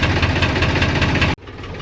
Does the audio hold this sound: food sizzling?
no